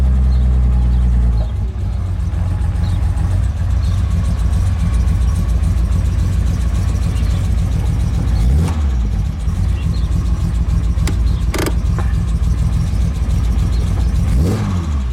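The engine of a classic Mini track car runs on full choke, a loud, continuous, rough mid-to-low drone with slight swells, close by and without speech.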